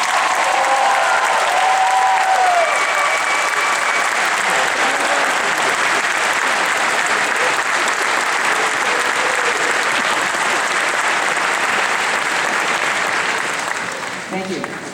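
A graduation audience applauds the standing grandparents of the graduates, with loud, dense and sustained clapping from a large crowd that holds steady for the whole stretch and tapers slightly at the end.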